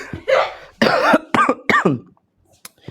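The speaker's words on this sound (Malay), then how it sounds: "maaf saya batuk sikit" A person coughs several times close by in quick rough bursts, then a short pause and a small final throat sound.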